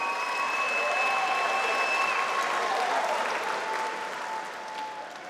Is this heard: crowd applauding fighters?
yes